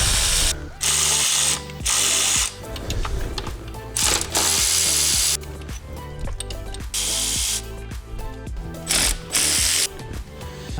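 A ratchet wrench removes four 10 mm bolts from the throttle body of a 2.4 Kia Optima or Hyundai Sonata engine, giving loud bursts of rapid clicking separated by short pauses, close up and with no talk.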